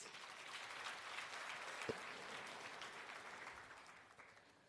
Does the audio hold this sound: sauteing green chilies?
no